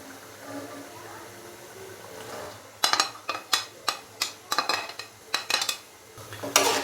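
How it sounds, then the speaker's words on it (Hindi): Peas and carrots tipped into spiced masala in a cooking pot: a quiet stretch, then a quick run of loud clinks and scrapes of a metal spoon against the pot, close by with no speech. "अभी मैं इसके अंदर डालूंगा मटर और साथ ही मैं इसके अंदर गाजरें भी डाल दूंगा"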